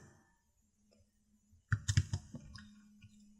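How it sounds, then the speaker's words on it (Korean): A computer mouse button clicked during work in pattern CAD software, a quick cluster of close, sharp clicks after a quiet stretch, then a few fainter clicks. "그리고 마우스 오른쪽 버튼을 눌러줍니다"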